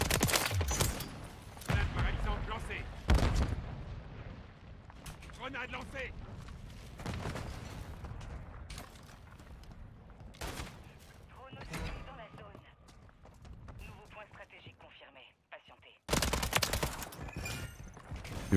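Bursts of video-game weapon fire crack out in loud volleys at the start and end, with scattered shots between, all under someone talking.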